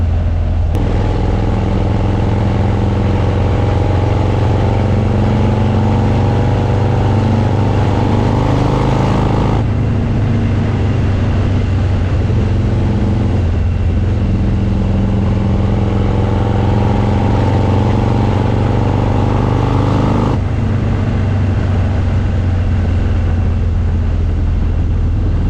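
A custom Harley FXD-R motorcycle engine rumbles loud and close at highway speed, its throttle repeatedly closed and reopened so the pitch rises in long pulls and briefly drops between them.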